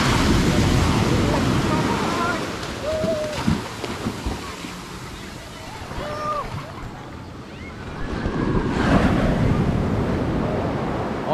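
Sea waves wash and break steadily on a beach at Sagñay, Camarines Sur, with wind buffeting the microphone and faint voices in the background.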